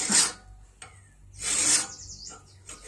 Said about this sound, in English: So I won't make you watch this whole thing of me filing.